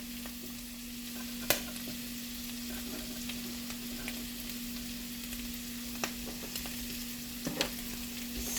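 Tomatoes frying with leftover steak in a pan give a steady, even sizzle with occasional sharp pops and crackles. A low constant hum sits underneath.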